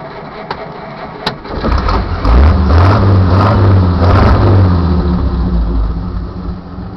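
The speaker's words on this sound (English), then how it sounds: "I'll get in and start it again so you can see how it starts and how it runs" A 1932 Chrysler engine cranks via its floor starter pedal, catches and settles into a steady, fairly loud running rumble with no talking.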